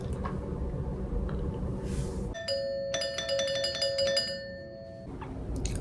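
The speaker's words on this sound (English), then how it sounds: "he just rung the doorbell." A home doorbell rings at the door, a bright multi-tone chime that starts mid-clip and sounds for a few seconds over low background rumble, without talk.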